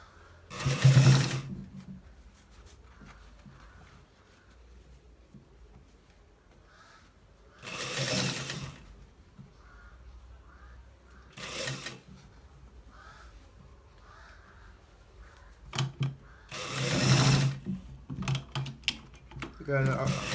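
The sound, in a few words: sewing machine stitching a shirt collar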